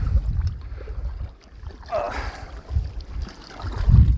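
Paddle strokes and water gurgling around an Old Town Saranac 146 canoe out on slightly rough water, with gusts of wind buffeting the microphone in uneven surges.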